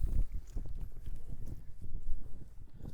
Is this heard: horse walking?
yes